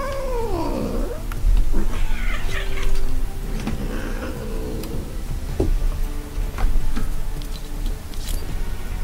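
A cat growls and yowls in low, drawn-out caterwauling bursts at close range, with rustling and small knocks around it and no talking.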